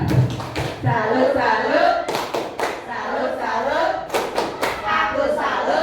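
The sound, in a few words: rhythmic clapping of the 'tepuk salut' clap chant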